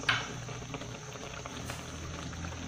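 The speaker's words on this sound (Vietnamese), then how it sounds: "giờ nó sôi nè mình sẽ tắt bếp để nguội nha" Sugar water boils in a pot with a steady bubbling patter and soft crackle, close up and continuous.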